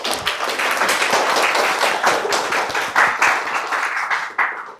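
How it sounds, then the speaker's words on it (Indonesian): A university class or lecture audience claps together, dense and fairly loud hand-clapping that holds steady for several seconds before tapering off abruptly at the end. "Boleh tepuk tangan?"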